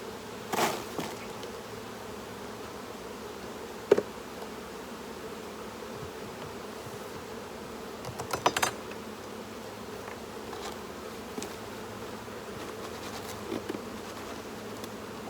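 Honey bees shaken from a brood frame into a box: a steady insect buzz throughout, with a few sharp knocks and a brief burst of thumps midway as the frame is jolted.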